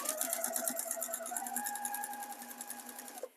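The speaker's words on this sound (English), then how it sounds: "I'm going to sew, I'm using a 1/4 inch seam allowance to the end, to the edge of the quilt" A sewing machine stitches quilt binding with a quarter-inch seam, a fast, even run of needle strokes with a motor whine that carries on alone and stops abruptly at the end.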